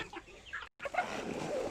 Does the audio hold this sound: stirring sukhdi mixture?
no